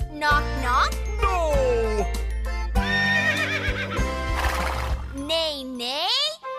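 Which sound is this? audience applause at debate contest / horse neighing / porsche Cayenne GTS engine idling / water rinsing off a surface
horse neighing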